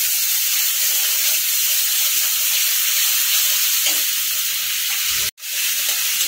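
A paste of ground tomato, garlic and a little ginger fries in a pan with a loud, steady, close hiss that runs unbroken throughout except for one brief dropout near the end, and no one speaks.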